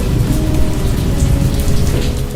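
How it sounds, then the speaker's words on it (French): Steady, heavy rain pours down in a dense, constant hiss with deep rumbling underneath, loud and close, with no voices. "La pluie."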